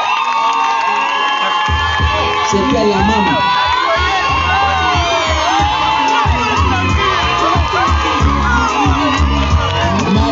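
A polygamous wedding crowd cheers and shouts loudly for the first wife, with whoops, excited voices and a thumping beat underneath, continuous and close throughout; someone speaks briefly amid the noise.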